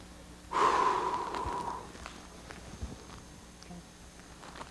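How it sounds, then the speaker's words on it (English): A single deep, audible inhalation during a qigong-style exercise rushes in close and clear for about a second, then fades into quiet room tone with a few soft thumps. "Breathe in."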